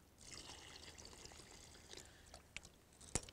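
Water poured into fishing groundbait mixed with corn, a soft, quiet trickle and splash lasting a few seconds, ending in a couple of sharp knocks.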